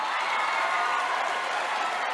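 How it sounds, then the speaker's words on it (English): Steady, dense applause from a party audience at a live birthday star show fills the whole stretch, with crowd noise blended in and no clear voices over it. "How about some applause here,"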